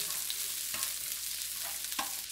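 Chopped onions fry in a pan with garlic, producing a steady, soft sizzle with a few light stirring scrapes, heard close and alone.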